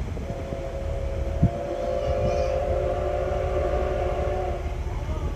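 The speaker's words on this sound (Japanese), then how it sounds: "C57-180 がやってきたよ。" Steam locomotive C57-180 pulling in on the Ban'etsu West Line, a heavy low rumble of the train rolling steadily nearby, with a drawn-out tonal whistle or squeal above it and a single knock early on.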